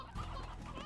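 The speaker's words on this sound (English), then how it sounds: "Chickens! Chickens!" Chickens clucking in the Slime Rancher video game, a short burst of close, repeated clucks with no talk over it.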